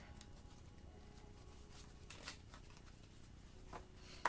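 Soft, irregular papery shuffling of tarot cards, faint and close, with a couple of slightly louder riffles near the middle and end.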